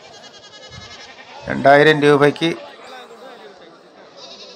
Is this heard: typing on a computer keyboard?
no